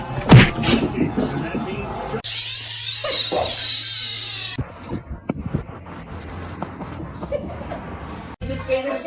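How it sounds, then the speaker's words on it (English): Cat meowing and caterwauling, loud and close, with short cries mixed among laughter, talk and other household sounds. "And now the cat."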